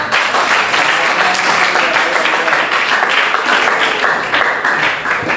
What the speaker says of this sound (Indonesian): Oke, beri aplaus untuk kelompok.